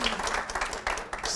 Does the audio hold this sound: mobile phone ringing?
no